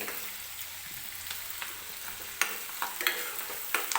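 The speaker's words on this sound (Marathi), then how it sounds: "कांदा व्यवस्थित सॉफ्ट होईपर्यंत आपल्याला तेलामध्ये परतून घ्यायचा आहे" Chopped onion frying in oil for pav bhaji, a steady close sizzle with intermittent scraping stirs and sharp clicks of a spatula against the pan, no voices.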